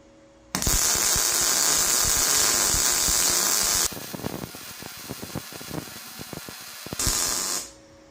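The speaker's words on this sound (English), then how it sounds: "let me just run a bead on there and to see if it welds right through that rust" A Vevor MIG 270 welder lays a bead over rusty metal, a loud, steady crackling hiss running for several seconds, breaking into sputtering pops, then a brief final burst before stopping.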